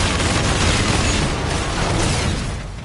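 A loud explosion in a video game fills the whole span with a dense, roaring blast of noise that holds steady and then fades slightly at the end, with no voices.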